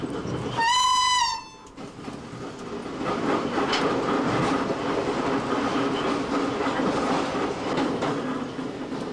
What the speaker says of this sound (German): Einfahrt in die S-Bahn-Station Potsdamer Platz.